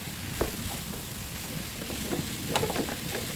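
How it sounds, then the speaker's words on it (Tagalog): Boiled jackfruit sautéing in a pan for ginataang langka, a steady soft sizzle with a few light stirring scrapes, close and alone without talk. "lagay na natin ang ating langka. Yan, igisa na natin."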